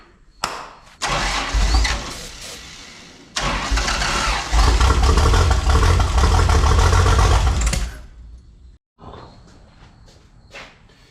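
An old Toyota Land Cruiser FJ40 pulled from a junkyard cranks briefly, then catches and runs loud and close with a rough carburetor, revving unevenly before cutting out and restarting.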